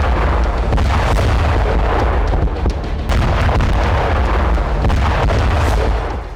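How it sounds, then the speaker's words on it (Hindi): Russian FAB-500 bombs explode one after another at Krasnogorovka, producing heavy, rumbling booms and blasts that overlap in a loud, continuous barrage with sharp bursts throughout. "रूसी फौज ने फैब 500 बम से एक के बाद एक कई धमाके किए"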